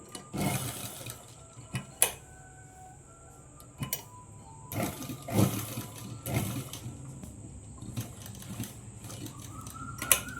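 A sewing machine stitches a Punjabi dress in short, intermittent runs separated by pauses and small clicks of handling, with no talking.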